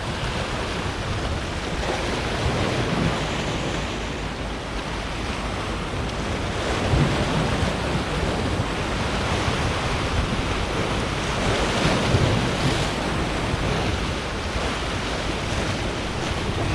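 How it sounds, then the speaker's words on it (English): Turbulent white-water surf breaking against the rocks of a Sebastian Inlet shoreline in Florida, a steady, continuous roar of waves with gusty wind noise throughout, close and fairly loud, with no talking. "A lot of nice turbulent white water along the rocks."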